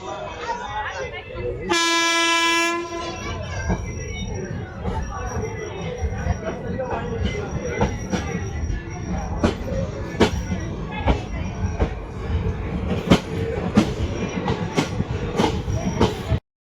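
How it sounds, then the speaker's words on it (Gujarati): Passenger train 59558 pulls out of Vadal and rolls along the rails, starting with a loud multi-tone horn blast, then a steady rumble with rhythmic wheel clatter and clicks that continues throughout. "તો વડાલથી ટ્રેન નીકળી ગઈ છે"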